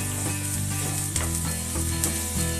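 Onion goes back into a hot pan of sautéed wheat and gizzards and fries with a loud, steady sizzle, with a few faint stirring clicks over the hiss.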